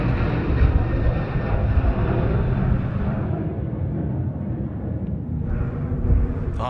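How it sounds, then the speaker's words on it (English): A Velocity Boeing 737-800 airliner departs Sydney Airport with a loud, broad jet roar that rumbles steadily and then thins as it climbs away, with no talk. "beautiful departure there from the Velocity 738"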